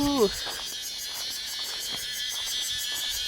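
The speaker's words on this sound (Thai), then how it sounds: "เสียงจักจั่น" Cicadas chirr in a steady, high-pitched drone with a faint pulsing rhythm, continuous throughout, in Thailand; a short tonal sound is heard at the very start.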